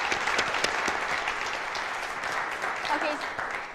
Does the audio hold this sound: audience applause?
yes